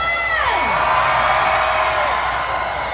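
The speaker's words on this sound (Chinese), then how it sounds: "尖叫声！" A large outdoor crowd at a National Day evening concert in Wenxin Forest Park, Taichung, screams and cheers before a rock band takes the stage. One loud whoop slides downward out of a sustained wall of roaring cheers.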